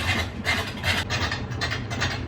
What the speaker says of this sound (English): That's my washing machine.